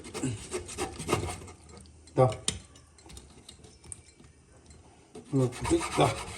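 A knife cuts through a salmon head on a board with a rough, rasping scrape, several strokes and a couple of sharper crunches, close up, while a person talks quietly at times.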